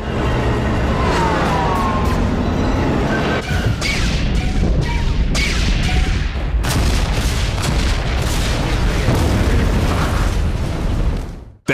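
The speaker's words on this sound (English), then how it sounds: "The starships are about to fire their main guns." Starships fire their main guns in the video game Star Wars: Twilight of the Republic, a loud, continuous barrage of booming blasts and explosions with sharp cracks layered over a dense rumbling battle.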